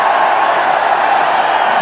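A packed cricket stadium crowd roaring as India push towards 300, a dense, steady wall of cheering and shouting heard from within the stands, loud and continuous with no break.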